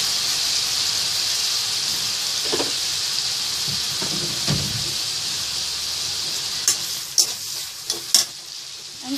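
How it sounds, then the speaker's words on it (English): Soy sauce and chili mixture sautéing on high flame before prawns go in gives a constant strong sizzle, with stirring scrapes and a cluster of sharp metallic clanks toward the end. "And saute it on a high flame for some time."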